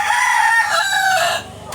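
A rooster crows loudly and close by for over a second, a long drawn-out call among farmyard chickens, then cuts off into quiet background.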